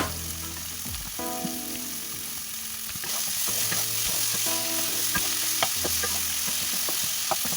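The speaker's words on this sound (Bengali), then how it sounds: "এবার সব ভালো করে কষাচ্ছি।" Young jackfruit and prawns fry in a pan with salt and a little sugar, crackling loudly and continuously while a spatula stirs and scrapes in repeated strokes.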